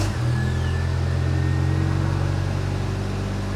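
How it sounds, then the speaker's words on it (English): A Geo Tracker engine with updated fuel delivery catches and runs at a steady, loud idle that rises slightly, a continuous close-up mechanical hum and drone with no talking. "So I just want to get the car started and drive it."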